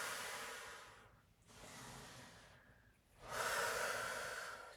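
Slow, deep breathing during a stretch-and-twist exercise: three long, close airy breaths separated by brief pauses, with the final exhale the strongest, and no talking.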